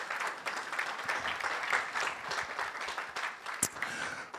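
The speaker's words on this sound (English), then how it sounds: "Give her a round of applause" Audience applause at a national championship launch ceremony: a fairly faint, continuous patter of many hands clapping, steady throughout with no voices on top.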